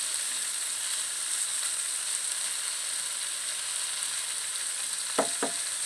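Capsicum (bell pepper) sautés in a pan with a steady, even sizzle throughout. Near the end, two quick stirring scrapes cut through the frying.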